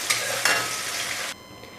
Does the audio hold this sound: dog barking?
no